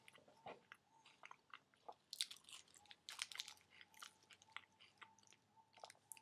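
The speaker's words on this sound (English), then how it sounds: "start chewing." Close, crunchy chewing and biting of a raw date wrap, irregular moist bites and mouth sounds repeating over several seconds with no talking.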